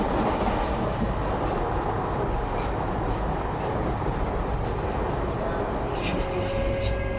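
A passenger train runs on rails in Iran, heard from inside as a loud, steady rumble and rattle of the carriages with faint clicks and a brief squeal near the end.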